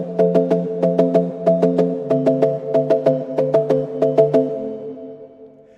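A heavily modified Ableton mellow piano preset synth plays arpeggiated chords, with a steady run of rapid, evenly spaced plucked notes that is loud and clean and settles onto a lower held chord at the end.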